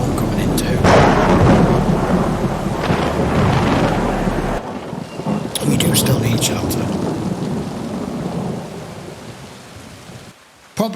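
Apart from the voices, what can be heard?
thunderstorm with rain in The Walking Dead episode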